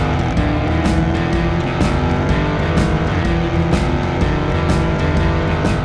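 A Dodge Challenger R/T pulling away under power, its loud, steady engine roar climbing through gear changes with faint tire noise, close up and continuous with no talking.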